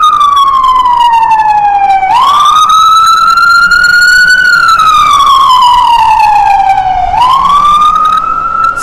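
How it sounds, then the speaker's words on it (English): An ambulance siren wails loudly, sweeping slowly up and down in long cycles, close by and continuous as it passes along a street, with faint road noise beneath. "ambulance coming down the street here."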